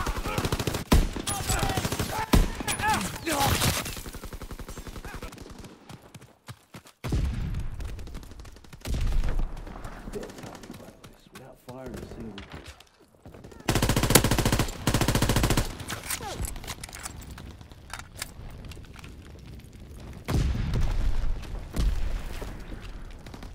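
A warship's primary battery firing in Call of Duty WWII, with heavy repeated gunfire bursts and booms coming in loud waves, separated by quieter stretches of game noise.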